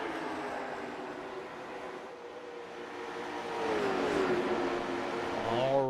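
Late model stock cars race around the Iowa Speedway oval, a steady engine drone with rising and falling pitch as cars pass, swelling louder toward the end with faint commentary underneath.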